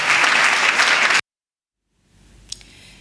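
Audience applause at an award tribute during a French-language evening news broadcast, a loud dense burst of clapping for about a second that cuts off abruptly, followed by quiet room tone.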